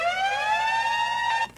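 Sampled siren from a hip-hop track dropped into a house track, a steady wailing tone with bright harmonics holding level and loud for over a second, then cutting off abruptly.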